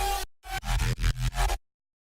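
Gritty neuro drum-and-bass synth bass from Serum with oscillator B raised two octaves, played as a loud, dense, buzzing stab followed by a choppy run of rhythmic bursts, then an abrupt cut to silence.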